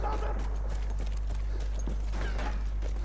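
Horse hooves clip-clop in the Battlefield 1 video game, a rhythmic series of moderate hoof thuds over a constant low battle rumble, with a voice talking faintly in the mix.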